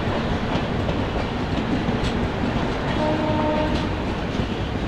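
The Pathankot Superfast Express leaves Amritsar Junction and crosses Amritsar city, a loud, continuous rumble of rolling wagons heard close by, with a faint horn-like tone partway through.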